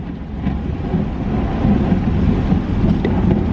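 Loud, sustained rumble of thunder during a storm, a deep continuous roll that swells and stays heavy throughout, close and filling the space with no speech.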